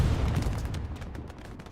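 Artillery fire in a Hell Let Loose match on the Carentan map, heard as a dense, rumbling barrage of booms and gunfire that stays loud throughout and eases slightly toward the end, with no talk.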